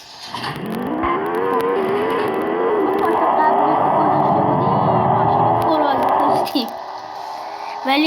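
A car engine in the Extreme Car Driving Simulator video game revs with rising and falling tones, loud and sustained, while someone talks over it throughout.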